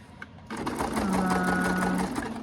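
A home sewing machine stitches a mitered corner on a self-binding XL potholder with a steady, close, continuous whirring run of rapid needle strokes that lasts most of the passage after a brief quieter start.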